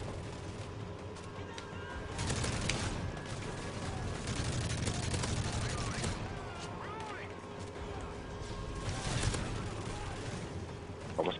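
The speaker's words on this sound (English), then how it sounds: "As soon as I get back up, I'd start getting railed with bullets." Dense, continuous gunfire and explosions from Modern Warfare 3 Spec Ops rumble at a constant level throughout, with people talking over the battle noise.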